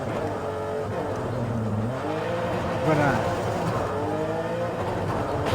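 A 2023 BMW M2 engine in Forza Horizon 5 drones loudly and continuously, its pitch rising and falling through gear changes, with a voice speaking faintly underneath.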